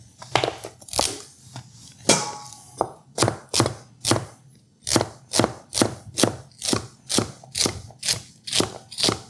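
A knife chops vegetables at an angle for stir fry, sharp close-up thuds on a cutting board coming in a quick, fairly regular rhythm of about a dozen strokes after a few uneven opening cuts.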